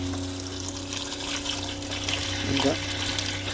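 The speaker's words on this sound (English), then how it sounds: "I'll top this thing off with fresh water" Fresh water fills the tank of a Roadtrek camper van, a continuous trickling, pouring rush over a low steady hum, with some bubbling gurgles partway through.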